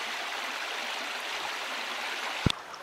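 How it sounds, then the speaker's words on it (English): A creek running high after rain rushes steadily with a broad, continuous hiss of flowing water, close by, with one brief knock near the end. "the creek is flowing quite strongly. And as you can hear,"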